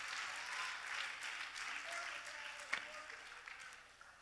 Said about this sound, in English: Somebody clap your hand and give God praise.